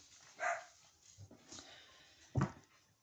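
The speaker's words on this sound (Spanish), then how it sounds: "Y sigue ladrando." Dog indoors giving a few sharp, separate barks spaced over a few seconds, faint and somewhat distant, with quiet background between them.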